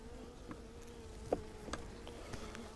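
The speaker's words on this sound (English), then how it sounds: "There you go, you got a few bees on you." Honeybees drone around an open beehive, a faint steady low hum with a few soft close buzzes passing by.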